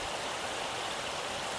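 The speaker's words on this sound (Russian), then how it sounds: "Впереди река." A river flowing through a spring forest, a steady, even rush of water that holds at the same level throughout with no pauses and no voices.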